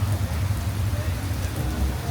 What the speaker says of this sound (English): Of course it is raining